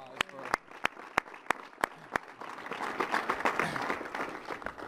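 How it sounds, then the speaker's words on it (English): Audience applause for little senators at a West End community gathering in Cincinnati: several loud isolated claps at first, then a broader, softer patter of crowd clapping with murmuring voices. "Give the little senators a round of applause."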